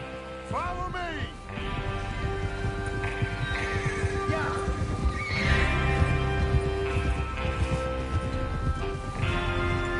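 Horses in the Western video game Red Dead Redemption 2 whinny loudly and close by, then keep up a clip-clop of hooves at a trot beneath further neighs, with a busy game soundscape around them.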